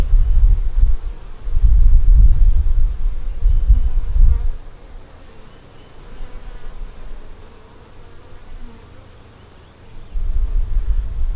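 Honey bees hum around an open hive, a low buzzing swarm that swells loud and close at first, fades to a softer drone through the middle, then rises again near the end.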